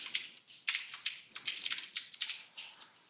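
Quick bursts of key presses on a computer keyboard while writing code, irregular clusters of light clicks with brief pauses between them, close and clear, no talking.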